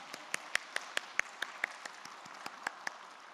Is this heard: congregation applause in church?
yes